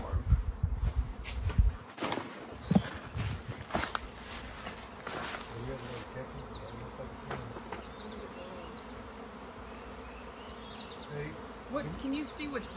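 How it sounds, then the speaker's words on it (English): A swarm of bees buzzes faintly and steadily around beehive boxes beside a high tunnel, a soft continuous drone with a few nearby thumps and rustles early on and a thin high tone running through it. "I think there's a swarm. Yeah, I hear bees."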